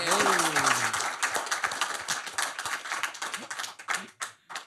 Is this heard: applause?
yes